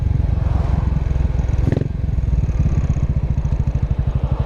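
A Buell Blast motorcycle with a 493 cc single-cylinder engine, heard up close while riding: a loud, steady thumping pulse that slows and loosens as it decelerates under engine braking.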